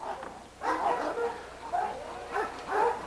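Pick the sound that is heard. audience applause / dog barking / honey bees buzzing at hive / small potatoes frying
dog barking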